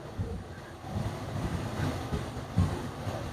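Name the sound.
wind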